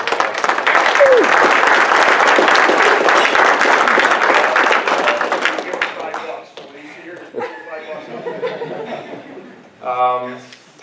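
Guests at a motorsports park awards banquet break into loud, dense applause with some laughter, which fades after about six seconds as people begin talking and a dog barks briefly near the end.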